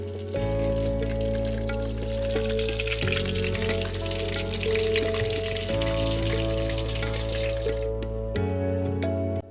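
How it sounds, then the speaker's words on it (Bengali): Steady, loud sizzling of marinated fish frying in a pan over a low gas flame, crackling continuously over a low hum with no one talking. "মাছটি ভাজার সময় গ্যাসের ফ্লেমটি লো রাখবেন"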